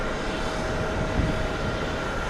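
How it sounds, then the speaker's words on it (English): A Boeing 787 Dreamliner at JFK airport produces a broad, steady jet roar that swells slightly midway, loud and continuous with no voices. "Now, that is our 787 Dreamliner."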